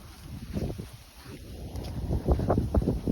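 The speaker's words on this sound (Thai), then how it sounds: "แต่วันนี้ลมพัด แรง" Strong wind gusts buffet the microphone by a lake swollen with melting ice, with rough rushing bursts and the slosh of choppy water against the shore, close and fairly loud.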